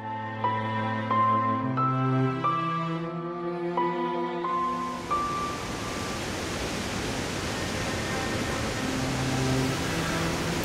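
A gentle melody plays for a few seconds, then gives way to a steady, dense roar of a waterfall in Patagonia that fills the rest.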